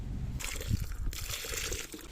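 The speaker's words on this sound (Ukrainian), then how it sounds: "Поки ми наші огірочки поливаємо добривом майстер агро 320" Water splashes and gurgles briefly into a planting hole prepared for cucumber seedlings, a soft close slosh that settles into a quiet trickle.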